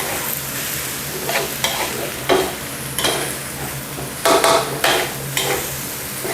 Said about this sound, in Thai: จากนั้นก็ผัดต่อเลยครับ ใช้ไฟแรงๆนะครับเวลาผัดนะครับ